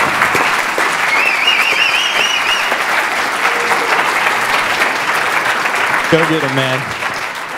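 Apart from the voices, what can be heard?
audience applause for a speaker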